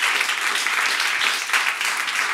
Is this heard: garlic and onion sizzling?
no